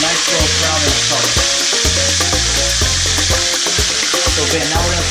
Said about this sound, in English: now we're gonna fry the other side about the same, probably 7-8 minutes or so